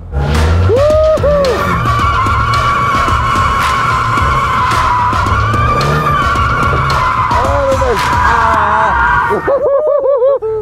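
A car drifts on a track, its engine revving hard under long, loud, wavering tyre squeals that rise and fall repeatedly, close and continuous, with brief voices mixed in.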